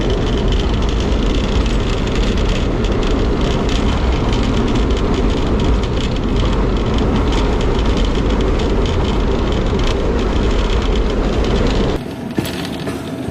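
The Pak Business Express train runs at speed through Samma Satta Junction at night, with loud continuous rumble and wheel clatter from inside the carriage; the noise drops away abruptly near the end.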